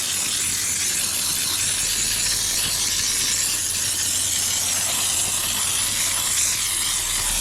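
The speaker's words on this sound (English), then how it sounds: "now I'll just wash her down with steam" Steady, loud steam hiss runs throughout, broad and airy with a faint low mechanical hum beneath, no talking.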